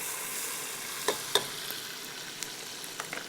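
Onions softening in a pan with garlic, ginger and green chili paste, giving a steady quiet sizzle with a few sharp clicks of stirring, no voices.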